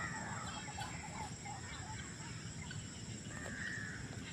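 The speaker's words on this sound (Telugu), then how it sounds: "కొంగలు అరుస్తున్నాయి కొంగలు" Egrets call in a village after rain, harsh croaking cries rising now and then over a steady wash of wet outdoor background noise, fairly distant and without speech.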